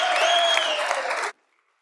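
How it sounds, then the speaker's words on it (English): Lawmakers on a state House floor applauding visiting students, a loud sustained round of clapping in a large chamber that cuts off abruptly into silence. "So if you could give them a round of applause,"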